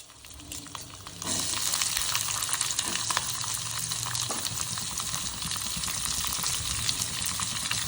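Onion and green chili hit hot sesame oil in a wok that already holds sizzling mustard seeds, chana dal and cumin, bursting into a loud, steady, crackling fry that continues without pause.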